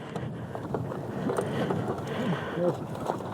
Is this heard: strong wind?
yes